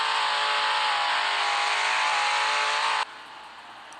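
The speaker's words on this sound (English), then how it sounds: "That car's loud." Loud sports car engine revving in a video game, a sustained high roaring drone held for three seconds before cutting off abruptly to quiet.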